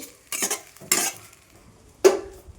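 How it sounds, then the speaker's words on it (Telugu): Leaves being dry-fried in a pan and stirred, three separate bursts of scraping and rattling with quiet gaps between them, close and fairly loud, with no talking. "ఈ ఆకంతా పొడి పొడిగా రావాలండి. ఇప్పుడే వస్తుంది పొడి పొడిగా. అప్పుడు దాకా ఫ్రై చేసుకోవాల్సిందే ఖచ్చితంగా"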